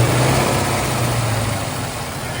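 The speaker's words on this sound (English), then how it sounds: "You hear those solid lifters." Idling 1970 Ford Mustang Boss 429 V8 with solid lifters and aluminum valve covers, a loud, steady, close rumble with a dense, even texture throughout.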